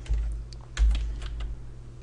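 Fingers typing on a computer keyboard while entering spreadsheet data, a brief run of close, crisp key clicks in an uneven rhythm.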